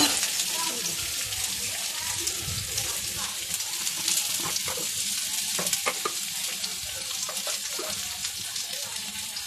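Steady sizzling of onions frying in hot oil, a continuous crackling hiss with occasional louder pops and stirring scrapes.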